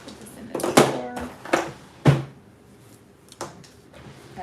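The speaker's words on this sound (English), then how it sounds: "Put this in the drawer." A drawer in a home nail workspace is opened and shut with several close, sharp wooden knocks and slides, spaced apart with quiet gaps between.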